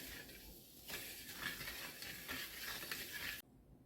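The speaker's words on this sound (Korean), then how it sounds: "소금과 당근을 넣고 잘 저어서 소금이 완전히 풀어질 때까지 소금물을 만들어 줄 거예요." Salt and carrot being stirred into brine water for making mustard-leaf kimchi: a close, continuous swishing and scraping of stirring with a few brief pauses.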